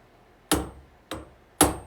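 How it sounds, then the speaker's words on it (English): Three sharp metallic hammer strikes hit a saw tooth to bend it, close and distinct with short ringing tails and pauses between blows. "the traditional way to do this was take your hammer and you strike"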